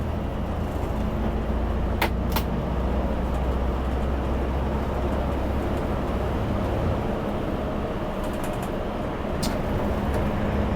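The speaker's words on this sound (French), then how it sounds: "et après le moteur aussi fait un peu de bruit." Engine of a reserve coach bus while driving, a steady loud low drone and road rumble continuing without pause, with a couple of faint clicks.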